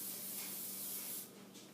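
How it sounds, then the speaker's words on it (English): An aerosol can of heat protectant hair spray gives one continuous close hissing burst, easing off toward the end, with no voices. "I like the aerosol ones because you get an even application"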